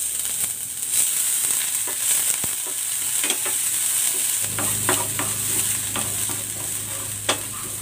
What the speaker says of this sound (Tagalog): Igigisa ko muna tong bawang. At ang sibuyas.